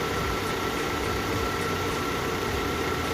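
A Skoda car engine idles steadily after its oil pressure switch sensor and ignition coil were replaced, giving a constant close hum with no voices.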